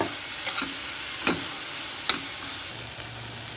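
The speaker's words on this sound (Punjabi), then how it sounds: "ਉਹ ਵੀ ਆਪਾਂ ਤੜਕੇ 'ਚ ਥੋੜਾ ਇਹਨੂੰ ਭੁੰਨ ਲਾਂਗੇ" Tomato roasts in an onion tadka in a pan, giving a loud, steady close sizzle with a few spaced spoon scrapes and stirring knocks, and no voices.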